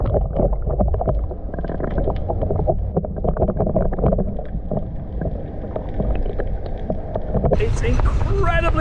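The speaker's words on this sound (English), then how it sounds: "It's incredibly windy." Strong wind buffets the microphone at a harbour port beside a boat, a constant loud roar with gusts, rising sharply near the end.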